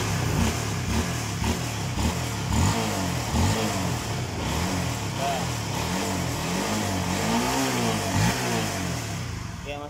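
A cold fuel-injected motorcycle fitted with an O2 manipulator idles unevenly nearby, its engine note sputtering and rising and falling in uneven surges while someone talks over it.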